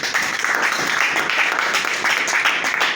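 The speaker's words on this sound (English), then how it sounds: "Let's clap for Jesus" A church congregation clapping together, a dense continuous wash of many hands, loud and close and unbroken, with no talk over it.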